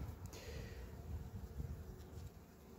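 Bees buzz steadily around a hive where sugar candy has been gathered under the roof, a continuous close drone with no talking.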